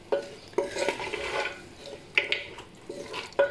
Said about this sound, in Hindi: अच्छी तरह भून लूँगी